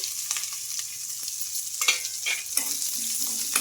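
Hot oil sizzles steadily as chopped onions fry in a tempering of oil with curry leaves and green chillies, with a few scraping stirs of a spoon in the pan close by.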